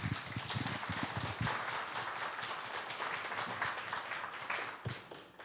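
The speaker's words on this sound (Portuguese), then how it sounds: "uma salva de palmas." Audience in a plenary hall applauding after a panel discussion, dense continuous clapping that stays fairly even and fades slightly near the end.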